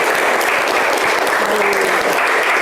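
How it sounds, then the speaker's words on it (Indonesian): Dense, continuous applause from a crowd fills the room at steady volume, with a faint voice briefly underneath. "keren sekali, tepuk tangan untuk Radi."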